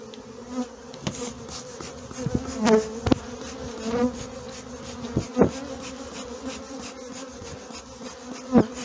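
Honeybees buzz continuously around an open hive during a honey harvest, with individual bees droning close by now and then over a steady hum.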